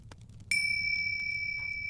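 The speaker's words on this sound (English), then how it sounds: "But soon it rang loudly, and so did every bell in the house." A single bell strikes once and then rings on with a steady, sustained tone that fades only slightly, close and clear over a faint low background hum.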